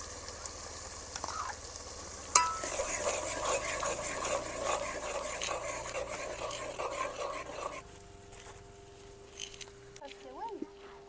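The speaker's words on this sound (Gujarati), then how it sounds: "આવી રીતના આપણે બધું મિક્સ કરી લેવાનું છે" A thick onion gravy for village-style whole brinjal curry is stirred in a pot, with scraping spoon strokes and soft sizzling patter under a voice talking throughout, quieter in the final seconds.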